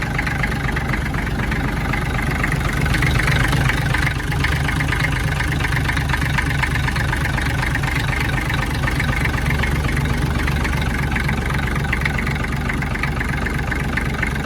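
A Series 800 tractor engine runs at a steady idle, with a deep, continuous low rumble and a rhythmic knock that keeps going for the whole stretch without any break.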